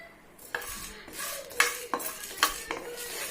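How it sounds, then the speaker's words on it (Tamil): Chana dal, coriander seeds and cumin dry-roasting in an empty pan, stirred with a utensil that scrapes and clinks against the metal in repeated strokes, with a light rattle of seeds between them. "இது வெறும் வானலியில் போட்டு நல்லா நம்ம ஃப்ரை பண்ண போகிறோம்."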